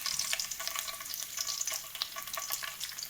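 Spices and curry leaves being tempered in hot oil crackle and sizzle steadily in a pan for a brinjal fry, a close, continuous frying hiss with small pops and no voices.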